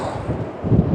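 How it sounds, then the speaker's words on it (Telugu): Strong wind gusts across the microphone at a pebble beach below chalk cliffs, a loud, steady rumbling roar that swells toward the end. "చాలా వేగమైన గాలి వస్తుంది."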